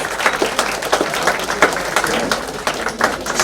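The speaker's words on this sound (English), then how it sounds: "last round of applause for all the people on stage" An audience at a press conference applauds steadily, a dense, continuous patter of many hands clapping at close range.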